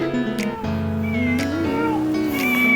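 A cat at a craft market gives a few drawn-out meows close by, their pitch bending up and down, against a steady background hum.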